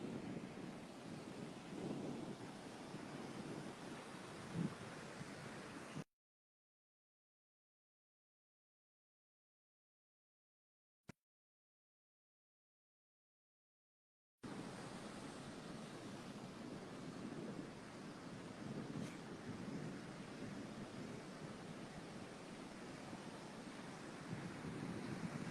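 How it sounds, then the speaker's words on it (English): On a windy beach, a steady broadband roar of wind and surf fills the recording, drops out to near silence for several seconds, then returns just as strongly. "Such a beautiful day here by the beach. It's a little bit windy,"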